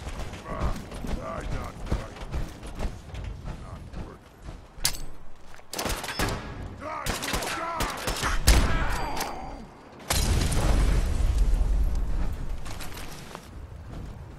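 Gunfire and grenade blasts in the game Fallout 4, a jumble of sharp cracks, thuds and mechanical clatter with a heavy burst near the end, mixed with faint voices.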